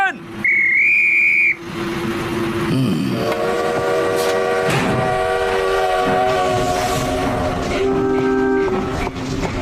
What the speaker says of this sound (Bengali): স্পিগেনহাইম মাইন ফ্রেন্ড আর ফ্র্যাঙ্কফুর্টের ট্রেন ছাড়তে যাচ্ছে